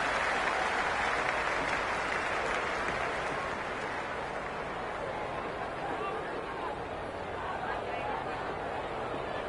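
Cricket crowd at an India vs South Africa T20 match cheering and applauding a boundary four, a dense, steady roar of clapping and voices filling the whole stretch at close, loud level.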